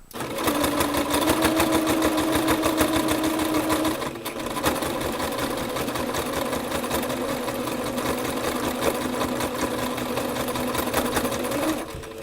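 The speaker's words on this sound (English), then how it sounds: "you can even sew it until after it gets off the presser foot" A sewing machine stitches dinner napkins, a fast steady mechanical whir with rapid needle rattle that pauses briefly near four seconds and then runs on.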